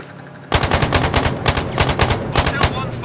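Rapid automatic gunfire in the game Sniper Ghost Warrior Contracts at Sibirskaya Junction, a sharp loud burst of closely spaced shots starting abruptly after a brief quiet moment and running evenly to the end.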